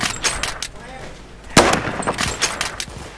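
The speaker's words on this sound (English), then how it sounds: "What is he shooting at?" Sharp gunfire from the Roblox first-person shooter Phantom Forces, with a loud close shot near the middle amid scattered softer shots and game noise.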